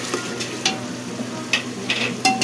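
Ginger garlic paste frying in a pot for biryani, a continuous sizzle with several sharp stirring scrapes and clinks of a spoon against the metal, close and alone.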